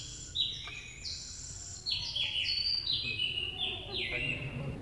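Percussion bird whistles imitating birdsong in an orchestral setting, giving a series of bright rising and falling chirps and trills that repeat through the passage, fairly faint over a low room rumble.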